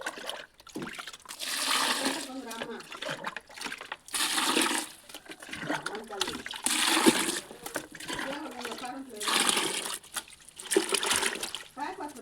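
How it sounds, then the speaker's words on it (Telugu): Chopped gongura leaves get rinsed in water, with several surges of splashing and pouring water separated by quieter pauses, near and fairly loud. "ఈ విధంగా గోంగూర అంతా కోసేసుకొని వాటర్తో 2 లేదా 3 సార్లు కడిగేసుకోండి"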